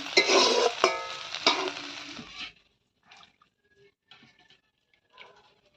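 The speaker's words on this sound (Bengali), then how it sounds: "এখানে বেগুন আর কয়েকটা ছোট ছোট আলু দিয়েছি বেগুন আলু ভাজা" Brinjal and small potatoes fry in a pan with a loud, close sizzle for a couple of seconds, then the sound cuts off, leaving near-silence with a few faint clicks.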